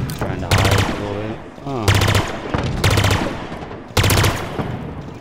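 Gunfire in Halo Infinite multiplayer, four sharp bursts of rapid automatic shots spaced about a second apart, close and loud, with short gaps of quieter game sound between them.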